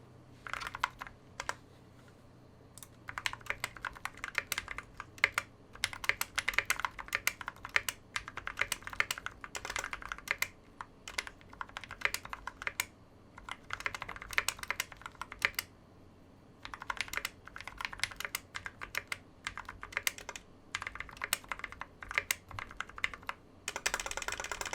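Rapid typing on a computer keyboard picked up close by a FiFine K690 USB microphone, with dense bursts of clicky keystrokes separated by brief pauses and no talking.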